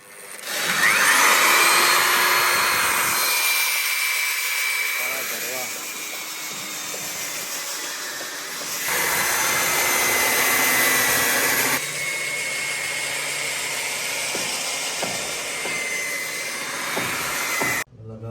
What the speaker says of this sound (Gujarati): છેલ્લો હોલ બાકી હોલ કટીનો ચાલુ કરી નાખી